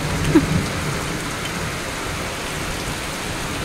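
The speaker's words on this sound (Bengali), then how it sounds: "ভালোই জোরে বৃষ্টি হচ্ছে।" Heavy rain pours down in a steady, loud roar, with a brief thump near the start and no voices.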